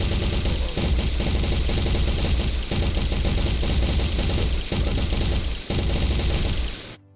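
Rapid video game gunfire fires shot after shot in dense, continuous bursts, loud and close, with only brief gaps before it cuts off near the end.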